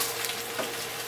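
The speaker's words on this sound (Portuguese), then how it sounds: "Fazendo um risotinho aqui." Risotto cooking in a small pan on an electric stove: a steady, continuous sizzle and bubbling, close and even throughout, with no voices.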